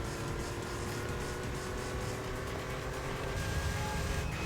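A car engine in the racing game Gran Turismo 3 drones steadily at a moderate level, a continuous hum with a faint rising tone near the end and no talk.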